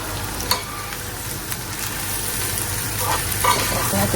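Small fish with tomato, onion and green chili frying in hot oil, a steady close sizzle with a couple of brief clinks of a utensil against the pan.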